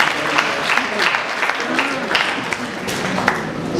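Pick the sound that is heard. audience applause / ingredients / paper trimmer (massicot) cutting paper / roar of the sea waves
audience applause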